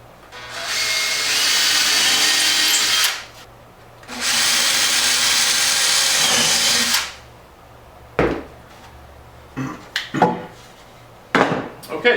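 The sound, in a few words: power drill drilling through wood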